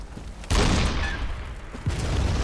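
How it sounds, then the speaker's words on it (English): A cannon blast in the video game Bloodborne: one loud, close boom with a rumbling tail, followed by a second, smaller thump a little over a second later. "I'm also about to shoot with this cannon"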